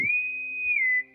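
A single sustained, high steady whistle tone from a bosun's whistle at a shipboard funeral, held for about a second with a slight dip in pitch before stopping, with no talking.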